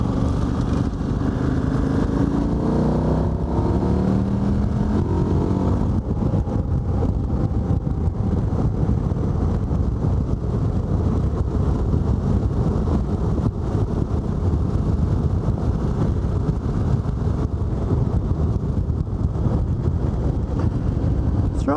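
A car engine runs steadily with a faint rattle, under loud wind buffeting the microphone. A brief rising whine is heard early on, and the roar stays dense and even throughout.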